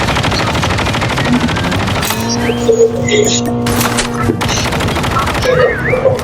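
Rapid automatic gunfire from the Call of Duty video game, dense and loud bursts at first, then giving way to sustained electronic tones and scattered game effects, with shots continuing throughout.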